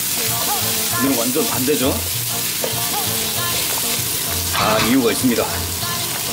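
Carrots stir-fried hard over high heat in oil for a curry, a steady sizzle with stirring scrapes running throughout, while someone talks over it.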